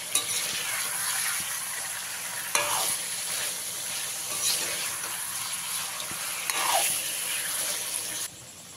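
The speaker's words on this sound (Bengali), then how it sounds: "চিকেনগুলোকে আমি 3 থেকে 4 মিনিট ভালো করে ভেজে নিয়েছি" Chicken pieces frying in a pan, a constant bright sizzle broken by three sharp scraping stirs spaced a few seconds apart, then the hiss drops away abruptly near the end.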